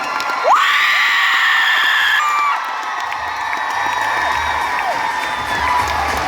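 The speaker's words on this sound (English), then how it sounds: "The loudest crowd in the tour." A loud audience at a Toronto book tour event with Rick Riordan and Mark Oshiro cheers, whoops and shrieks in a sustained roar of many voices, with piercing high yells rising above the crowd.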